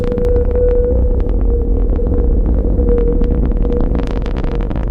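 A rocket engine burn in the 2D space game Tiny Space Academy, a loud continuous low rumbling hum with a steady tone on top, alone without talk.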